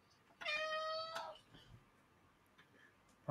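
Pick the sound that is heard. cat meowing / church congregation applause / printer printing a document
cat meowing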